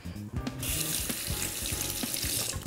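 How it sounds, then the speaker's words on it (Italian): Running tap water rinses peeled potatoes in a kitchen sink for rösti. After a brief pause, a loud, steady rushing stream begins close by and continues throughout. "Le sciacquiamo sotto l'acqua."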